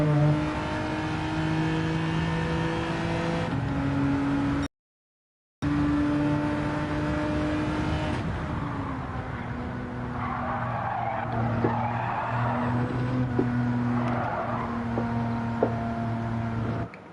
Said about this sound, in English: I'm gonna have to use the GTR for time trial